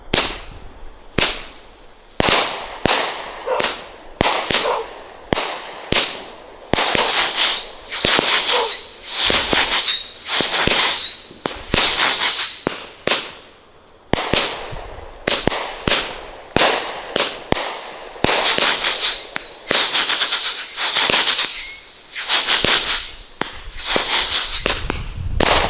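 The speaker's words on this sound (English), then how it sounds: "This is Black and Blue by Firework," A Black and Blue 25-shot firework cake fires at a Fourth of July show, a loud, rapid series of sharp cracking bursts with crackling tails and whistling fizzes, repeating for about twenty-five seconds with brief gaps.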